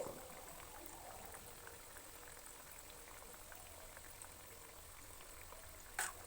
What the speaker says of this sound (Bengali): লাল লাল করে ভাজা হয়ে গেলেই আমরা তুলে নেব দেখুন আমাদের ভাজা পর্ব চলছে